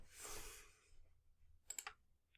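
Clicks from a computer keyboard as letters are typed into a program, a short burst of several quick close keystrokes after a brief hiss, with no talk.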